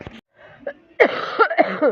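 A few close, sharp coughs with throat-clearing sounds, short bursts separated by brief pauses.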